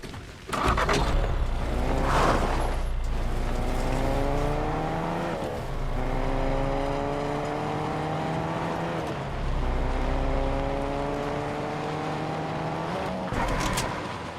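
A car drives in the Fortnite video game, its engine droning with rising pitch through several gear changes, interrupted by brief tire screeches, loud and close throughout.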